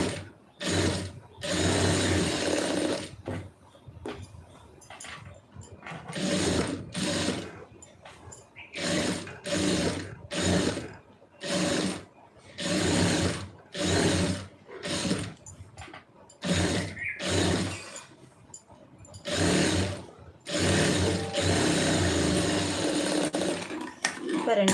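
A sewing machine stitches a garment in repeated bursts, each run of rapid mechanical whirring stopping and starting as the fabric is fed, loud and close, with short pauses between runs.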